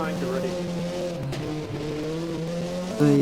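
A Ford hill climb race car engine at a European Hill Climb Championship round drones steadily at high revs, its tone shifting slightly before rising louder near the end.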